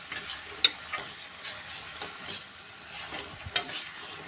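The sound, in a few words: stirring and frying spice paste with ginger paste in a pan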